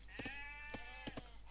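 Sheep bleat in an Age of Empires match, three or four short, wavering bleats close together in quick succession, clear and fairly soft against a low steady hum.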